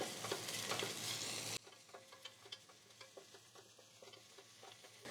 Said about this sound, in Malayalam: ഇനി ഇതിലോട്ട് അര ടേബിൾ സ്പൂൺ ഇഞ്ചിയും വെളുത്തുള്ളിയും ചതച്ചതിട്ട് കൊടുക്കാം ഇതും കൂടെ ചേർത്ത് നല്ലതായിട്ട് വഴറ്റുക